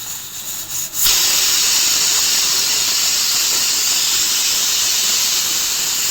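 A pressure cooker cooking greens releases a sudden loud, continuous steam hiss after a quiet second, holding steady and close with no break until the end.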